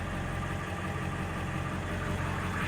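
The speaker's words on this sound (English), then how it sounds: "Sounds cool. Never heard a diesel truck before." A 1999 Ford diesel truck engine idles steadily with a low, continuous rumble and even knock, heard close and alone without any talk.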